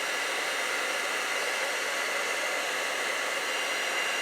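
A heat tool blows a steady, loud hiss of hot air while warming hot glue for embossing, an unbroken roaring whoosh with no pauses and no voices.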